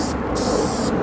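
A spray paint can hisses onto a wall during a graffiti piece, giving a short burst, a brief pause, then a longer steady spray, close and fairly loud.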